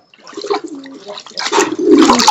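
Pigeons coo close by, low throaty calls repeating in bursts that grow louder toward the end, with a voice speaking nearby.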